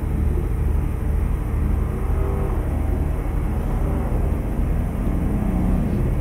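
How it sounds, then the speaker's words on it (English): Traffic cars driving past on a road in American Truck Simulator, with modded traffic vehicle sounds heard as a steady, continuous engine and road rumble under the truck's cab noise, with no distinct individual pass-bys. "you'll hear cars drive by now"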